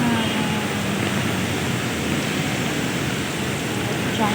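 Steady, dense hiss of heavy rain pouring down continuously, loud and close, with no breaks.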